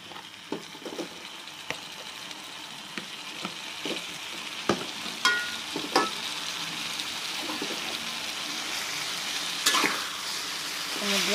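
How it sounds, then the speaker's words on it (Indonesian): Fried purple eggplant stirred and pressed into chili sambal in a pan over low heat. A steady sizzle of frying runs throughout, broken by scattered clicks and scrapes from the spatula. "Kemudian kita aduk-aduk seperti ini ya, biar sambelnya itu merata, dan sambil ditekan-tekan seperti ini."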